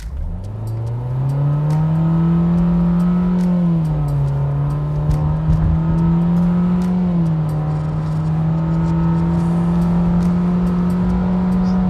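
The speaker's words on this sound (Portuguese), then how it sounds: "A gente fez aí 3 trocas de marcha, né? Operadas aí pelo sistema de simulação da transmissão CVT." A Renault Sandero 1.6 CVT Intense accelerates hard, its engine drone loud and close, rising steadily in pitch, then dropping sharply at each of several simulated gear shifts before climbing again.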